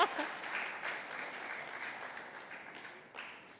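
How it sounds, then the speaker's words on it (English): A summit audience claps, a moderate spread of applause that sounds somewhat distant and fades gradually, with a brief renewed swell near the end. "Claps can be louder."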